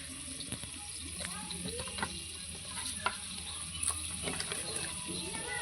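Onions fry in hot oil as the base for a mutton curry, giving a continuous close hiss and crackle with scattered light clinks and stirring scrapes throughout.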